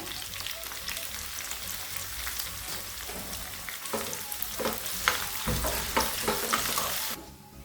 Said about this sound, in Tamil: இப்போ நம்ம தாளித்து கொட்டிக்கலாம்